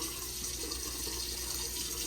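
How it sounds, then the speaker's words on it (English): Water runs steadily from a newly installed faucet into a boat sink, a constant, even splashing hiss that lasts throughout, close by and alone. "Just turn back on the water."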